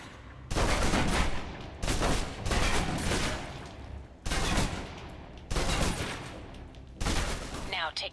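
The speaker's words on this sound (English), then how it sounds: "Now, let's move on to the submachine gun. Now let's empty the clip." A submachine gun in the video game Alpha Protocol empties a full magazine in five or six loud sustained bursts, each roughly a second long and separated by brief pauses, with no talk.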